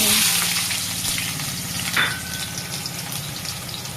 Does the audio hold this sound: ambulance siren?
no